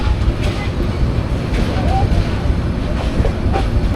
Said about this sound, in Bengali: এখন আমাদের ট্রেন খুব সুন্দর একটা কার্ভ নিয়ে কিশোরগঞ্জ রেল লাইনের দিকে চলে যাবে